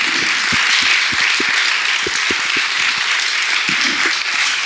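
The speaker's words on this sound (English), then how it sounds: "please, thunderous applause for Rodrigo Garcia" Audience applause at a talk honoring Rodrigo García, a dense steady wash of clapping from a crowd, moderately loud and continuous throughout, with a few louder individual claps standing out.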